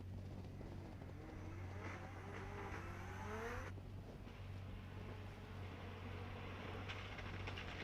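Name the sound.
Toyota Supra drift car entering the course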